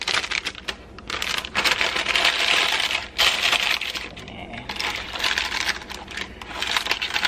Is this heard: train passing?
no